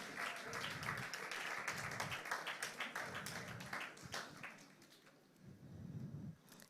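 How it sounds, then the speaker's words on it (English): Audience applause at a children's debate competition as a speaker walks to the stage, a dense clatter of many hands that fades, dips briefly and then swells again before stopping. "Please sustain the applause until he gets to the front."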